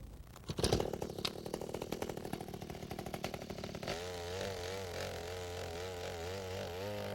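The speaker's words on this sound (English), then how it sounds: "We're using a 20-pound gas-powered mini-tiller." A 20-pound gas-powered mini-tiller churns garden soil, its small engine buzzing loudly and roughly at first, then settling into a steady, droning idle-like hum.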